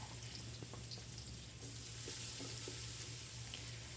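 Garlic sizzles in hot cooking oil in a pan, a steady close frying hiss with small pops and a faint stirring clatter, alongside a low constant hum.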